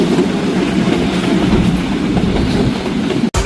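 The Udaya Devi Express runs along the rails with a loud, continuous rumble and rhythmic clickety-clack of wheels, close and steady, with one brief sharp knock near the end.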